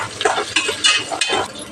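Rice frying in a pan with homemade ghee for ghee rice, a loud, close, crackling sizzle broken by brisk stirring scrapes in an irregular rhythm.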